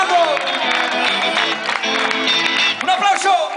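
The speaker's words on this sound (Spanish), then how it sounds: "esas palmas que suenan" Audience clapping along at a lively live music performance, steady applause under cheering, shouting and singing voices throughout.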